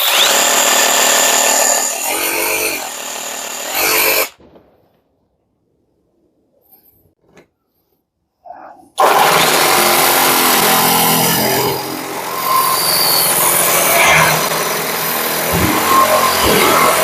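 A Parkside Performance PSSAP 2028 A1 cordless reciprocating saw runs loud and close, a harsh buzzing drone that cuts out for several seconds, then starts again and keeps running steadily to the end.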